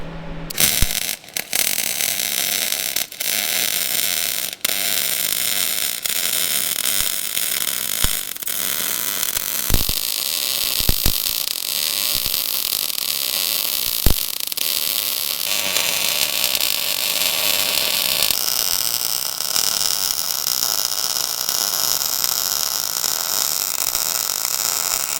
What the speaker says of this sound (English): Right, let's get welding.